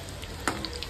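Cabbage manchurian balls made from rice and poha frying in hot oil over a high flame give a close, steady sizzle and crackle, with a brief stirring clink partway through.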